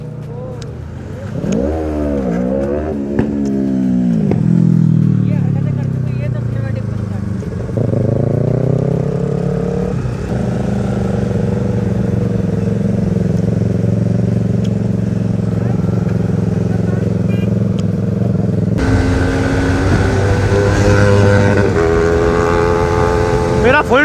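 Motorcycle engine revving hard at full throttle on a road ride, with loud rising and falling pitch sweeps and a steady roar, under wind noise and a voice talking.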